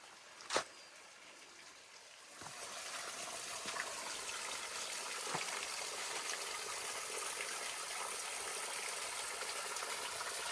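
Spring water flows steadily at a backcountry spring along the Ozark Trail, a soft broadband rush that grows fuller after a sharp knock near the start, continuous and moderately close with no voices.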